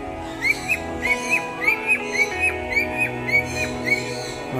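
A run of soft, rising whistled diamond dove calls repeats at a steady pace, about two per second, over a low steady background hum.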